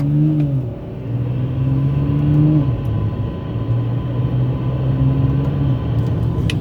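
A tuned big-turbo BMW M340i running on E85 pulls in 4th gear, its loud engine drone holding steady and stepping up in pitch in a few sustained surges close by.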